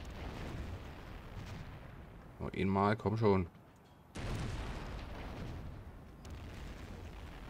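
Ship cannon fire in the strategy game Anno 1404 comes as loud, rough bursts of booming noise, both before and after a short stretch of someone talking.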